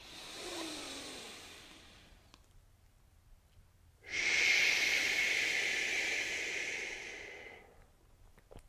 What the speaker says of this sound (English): make an SH sound as we push them back out to sea